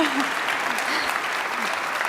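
A theatre audience at a film institute tribute gala applauds in a steady, dense wash of clapping that fills the moment evenly, with no voices breaking through.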